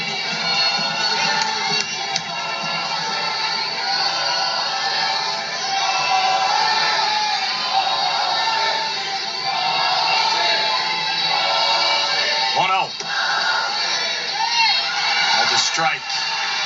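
Texas A&M softball fans at Davis Diamond roar in a sustained ovation, a dense cheering crowd with shouts and whoops, loud and continuous, with a voice talking over the noise.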